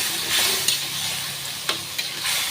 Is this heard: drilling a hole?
no